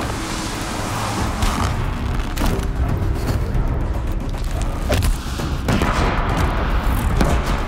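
Repeated explosive booms and blasts from blast bombs in the video game Horizon Zero Dawn, heavy low rumble, several sharp bursts over a noisy, continuous background.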